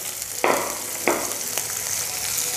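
Potatoes and green chillies frying on low heat for an aloo tamatar sabzi, a soft continuous sizzle with two sharper bursts early on, close and alone.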